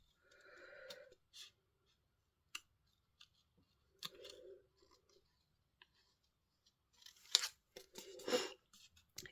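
Scissors snip around a stamped card figure in short, sparse cutting strokes and clicks with long pauses between them, close but quiet, ending in a few sharper crisp snips.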